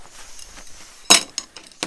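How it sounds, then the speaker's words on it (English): Scored stained glass snapped apart by hand for a first Tiffany lamp: one sharp, loud crack and clink, then a few fainter glassy ticks and a final snap, with no voices. "It's a lot easier than what I thought, this, cutting this glass."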